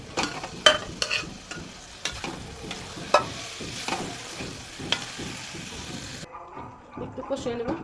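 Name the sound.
chicken pieces sizzling and stirred in pan for biryani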